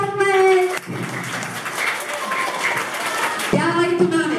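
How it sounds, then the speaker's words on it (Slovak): Applause for a teacher at a primary school first-grade event, a crowd of clapping hands mixed with children's and adults' voices, with a person speaking briefly at the start and end. "Veľký potlesk."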